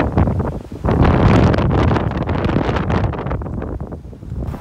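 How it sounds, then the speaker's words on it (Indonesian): Strong typhoon wind by the sea in Japan buffets the microphone in loud, rough gusts, with a roaring seaside wash beneath and no talking. "Gimana sih laut kalau ada angin topan?"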